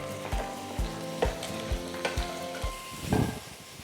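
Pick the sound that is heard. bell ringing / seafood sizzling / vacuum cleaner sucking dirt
seafood sizzling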